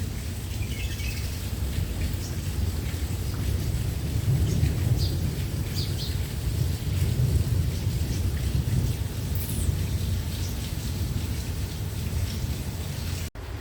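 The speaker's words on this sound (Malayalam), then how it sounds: "ഇപ്പോൾ ഇടി എന്ന് വെച്ചാൽ നല്ല പരമ്പൻ ഇടിയാണ് ഭയങ്കര ഇടിയാണ്" A storm over Ajman brings a constant dense wash of heavy rain with low, rolling thunder beneath, steady and enveloping throughout, with faint bird chirps now and then and no one speaking.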